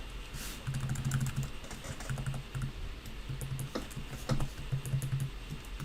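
Steady clicking of code being typed on a computer keyboard, close and continuous in quick bursts with brief pauses, no voices.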